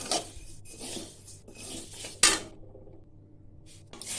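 Moong dal dry-roasting in a pan, stirred with a utensil that scrapes and rattles against the metal in uneven bursts, with a sharp knock midway and a brief quiet stretch before the stirring resumes.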